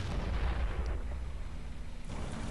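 Artillery fire in the war strategy game Men of War, heard as a dense, continuous rumble of heavy booms that swells early, eases slightly, then surges again near the end, loud and close.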